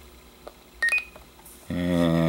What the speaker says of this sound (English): You press and hold until you hear the little beeps